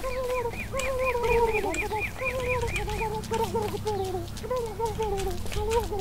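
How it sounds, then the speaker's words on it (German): Turkey gobbler in the game Don't Starve gobbling in rapid repeated honking bursts while being chased, continuous throughout, with a voice talking underneath. "Ich jag den gerade den Truthahn"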